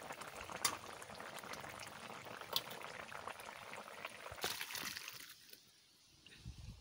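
Kochu shak (taro leaf) stems boil in a pot with a soft, continuous bubbling and a few small splashes. The sound is faint and close, and it thins out near the end.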